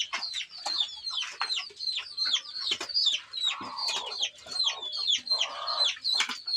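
Several hens cluck and squawk in a cage in winter, a steady close chorus of rapid overlapping calls with no voices over them.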